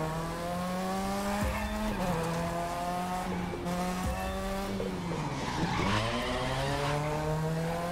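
A car in the racing game The Crew 2 drives with a steady, close engine drone, rising and falling in pitch through gear changes as the tires repeatedly squeal and skid.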